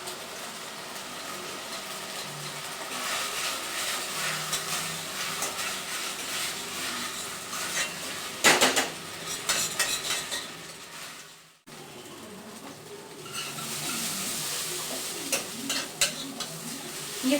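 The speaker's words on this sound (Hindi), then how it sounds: "अगर हम इसको प्याज और मटर के साथ ही फ्राई करें थोड़ी सी देर तक।" Onions and peas fry in mustard oil in a home kitchen pan, a close, continuous sizzle with stirring scrapes and occasional louder bursts of crackling.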